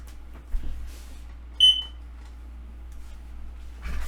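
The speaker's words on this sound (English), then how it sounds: "my thing just came off the alarm" A single short electronic alarm beep sounds once, close and clear, over a low steady hum, with a few soft thumps and rustles around it.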